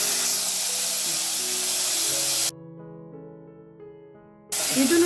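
Chopped tomato fries in hot oil with a steady, loud, close sizzling hiss that cuts off abruptly midway, leaving soft music, then returns.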